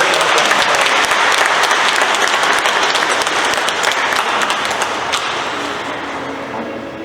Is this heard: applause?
yes